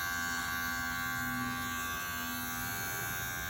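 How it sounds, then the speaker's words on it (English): Electric hair clipper buzzing steadily while cutting hair during a feathering haircut lesson, a continuous close, loud motor drone with no talk. "I'm used to doing it with the clipper."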